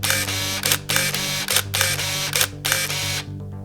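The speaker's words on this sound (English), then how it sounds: "If you keep the shutter release button pressed permanently, the film will continue to be exposed at approximately 1 frame per second." A Canon EOS 850 film camera fires its shutter continuously about once per second, each loud mechanical click-and-wind burst followed by a whirring motor drive, roughly four cycles in a row.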